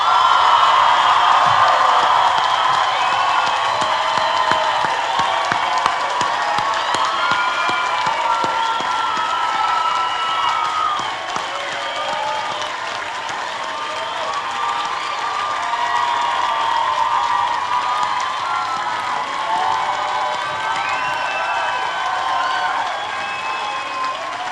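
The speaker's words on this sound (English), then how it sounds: "Let's give them a well-deserved round of applause" An audience at the New College 2014 commencement applauds newly graduated students with sustained, loud clapping and a few cheers, continuing steadily for the whole stretch.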